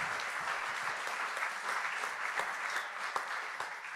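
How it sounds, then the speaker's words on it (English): Sustained audience applause at a YWAM conference event, a dense steady patter of many hands clapping from start to finish with a few sharper claps standing out. "Give these people, wonderful people, a round of applause"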